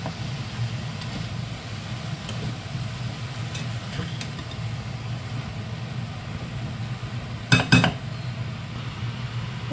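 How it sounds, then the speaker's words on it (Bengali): Spoon lightly stirring moong dal with bottle gourd in a metal cooking pot: faint scattered clinks over a low steady kitchen hum, with a brief, louder double clatter of metal near the end, no talk. "একটু হালকা নাড়িয়ে নেব"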